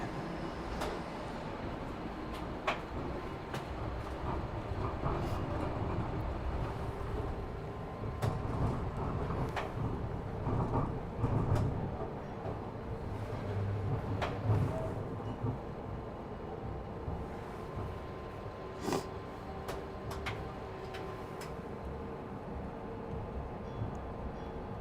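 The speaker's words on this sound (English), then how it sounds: "We are on the 511 northbound Bathurst Streetcar." Inside the 511 northbound Bathurst streetcar in Toronto on a weekday morning, a steady low rumble of the moving car with intermittent clunks and rattles and occasional sharp clicks throughout.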